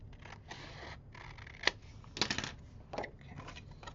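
A few sharp snipping clicks from scissors cutting paper, with brief rustling between them, close and fairly quiet.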